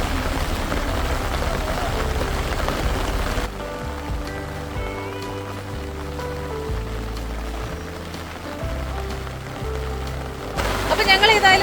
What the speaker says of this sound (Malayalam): പക്ഷെ ഇപ്പൊ കണ്ടില്ലേ മഴയും കോടയും ഒക്കെയാണ്